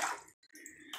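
A bath bomb fizzes in bath water, giving a close, hissy crackle of tiny bubbles. It breaks off briefly, then carries on more softly, with no voices.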